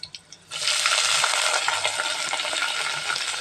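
Onions hitting hot oil in a pan, a few faint clinks followed by a sudden loud, bright sizzle that holds steady and close throughout.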